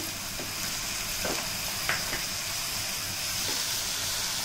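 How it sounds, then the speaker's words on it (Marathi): Ginger garlic chili paste fries with tomatoes in a pan, giving a steady close sizzling hiss with a few soft scraping stirs, no talk. "आलं लसूण मिरचीची पेस्ट घालूया।"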